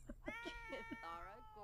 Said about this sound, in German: du hörst doch, wie der Kater schreit